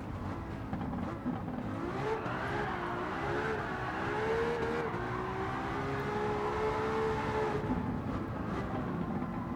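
A V12 car engine screams at high revs, a continuous close, loud wail whose pitch climbs and then holds for several seconds with no voices.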